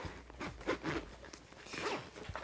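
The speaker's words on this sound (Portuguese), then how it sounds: "deixa eu achar o zíper" A zipper pulled closed on a packed, bulging travel toiletry bag, several short rasping strokes over about two seconds, close and fairly quiet.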